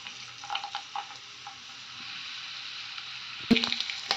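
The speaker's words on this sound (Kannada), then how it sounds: "ಆಮೇಲೆ ಮೊದಲೇ ದ್ರಾಕ್ಷಿ ನೀಟಾಗಿ ಫ್ರೈ ಆಗಬೇಕಲ್ಲ" Raisins and cashews fry gently in a pan, giving a soft, continuous sizzle with a few light stirring taps and a sudden sharper clatter just before the end.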